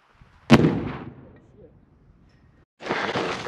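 A single sharp commercial explosive detonation set off during blasting training, a loud near boom with a rumbling decay, followed by a burst of rustling or debris-like noise a couple of seconds later.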